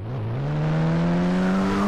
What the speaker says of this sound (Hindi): भाई आवाज, गाड़ी की साउंड यार